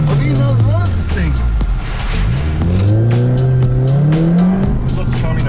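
A small, lightweight, low-horsepower sports car is driven hard on cold tires. Its engine drones loudly, and its pitch rises and falls as the driver blips the throttle during heel-toe downshifts. Occupants talk over the engine noise.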